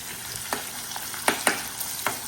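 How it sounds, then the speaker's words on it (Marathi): Onion fries to golden in a pan with a continuous close sizzle, broken by several sharp spoon scrapes and taps as it is stirred. "कांदा परतून घेते गोल्डन असतो कांद्याला गोल्डन कलर येस्तवर चांगला कांदा मारून घ्यायचा"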